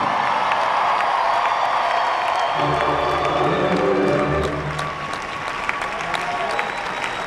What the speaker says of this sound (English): please put those hands together and give a grand round of applause to Miss Penny Parker.